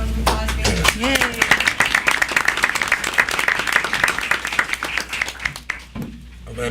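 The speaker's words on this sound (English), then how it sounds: "Guys, one more hand. Round of applause here." Applause rises at a Springfield Public Schools board meeting after a short spoken line, a crowd of hands clapping steadily and fairly close, tapering off with speech returning at the end.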